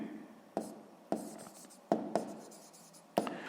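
Handwriting on paper while solving a sixth-grade maths problem, five crisp pen taps with light scratching between them, close and quiet, no voices.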